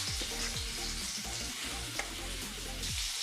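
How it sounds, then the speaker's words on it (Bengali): Potato pieces frying with salt in oil that already holds a Bengali five-spice tempering of dried red chilies and bay leaf, giving a steady, close sizzle with brief stirring scrapes and no talking. "আলুর মধ্যে সামান্য পরিমাণে নুন দিয়ে আলুটাকে ভেজে নেব।"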